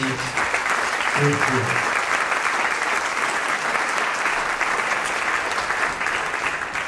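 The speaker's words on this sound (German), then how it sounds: "Lassen Sie uns auch einen großen Applaus für die Live-Musik." A crowd at an evening event in Velden applauds the live band, loud sustained clapping that fills about seven seconds, with a brief murmur of voices mixed in near the start.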